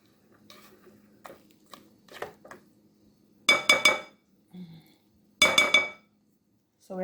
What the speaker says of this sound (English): So we're gonna continue to cream until this is nice and fluffy.